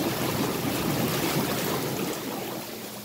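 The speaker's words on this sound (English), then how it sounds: "it does produce a lot of steam" The pump of a Coast Apex L Curve steam machine runs continuously with a dense, loud, hissing rush of steam, steady throughout and easing slightly near the end.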